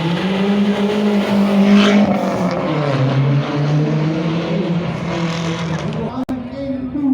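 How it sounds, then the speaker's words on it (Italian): A classic rally car with a Cosworth RS 16-valve engine at a classic car meet in Cavarzere, its engine droning steadily and loudly at close range while people talk over it. "motore Cosworth RS 16 valvole."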